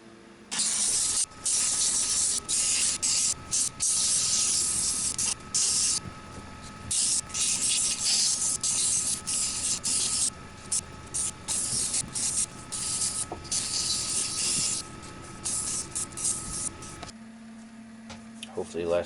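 A steady, close spray hiss of a shine finish coat being applied to a turned resin and wood vase runs almost continuously, with brief pauses in between, then cuts off near the end.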